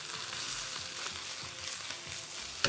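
Onions hit a hot pan for a Chinese takeaway-style beef curry and sizzle steadily, a close, continuous crackling fry with light stirring and a small clack at the end.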